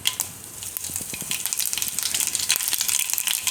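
Mustard seeds and cumin hit hot oil in a pan, making a loud, continuous crackling sizzle with dense popping spatters close up.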